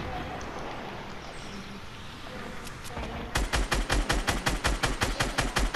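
Automatic gunfire in Fortnite, a steady, loud burst of evenly spaced shots that starts abruptly partway through after quieter game ambience, with a voice talking underneath earlier.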